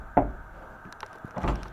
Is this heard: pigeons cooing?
no